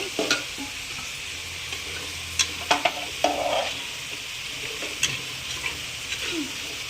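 Mutton for biryani being stirred and fried in a pot, with a steady sizzle throughout and intermittent scraping clinks of the spoon against the metal, close and moderately loud.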